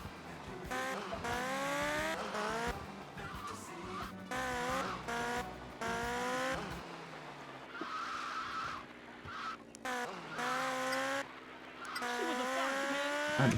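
Motorcycles race in GTA Vice City Stories, engines revving and rising in pitch through repeated gear shifts, with tire skids and passing vehicles, continuous and loud, with someone talking over it.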